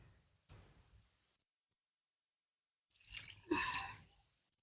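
Water warmed on a pot lid is poured into a fish curry cooking over a wood-fired chulha: a small click first, then after a quiet pause a short, close splashing pour into the liquid.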